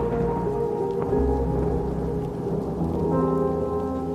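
Steady heavy rain pours down with low rumbles of thunder, joined by a soft sustained tone underneath and no voices.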